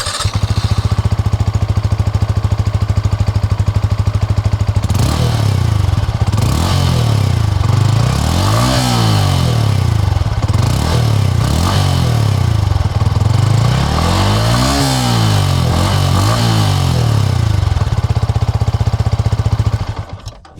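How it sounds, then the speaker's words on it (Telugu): A Yamaha XSR 155 fitted with a Cafe Racer add-on idles with a loud, steady buzzing thrum, then its exhaust blips through a series of rising and falling revs, close and dominant, before cutting off at the end. "సో ఈ బైక్లో ఎగ్జాస్ట్ నోట్ ఎలా ఉందో ఒకసారి చూద్దాం మనం"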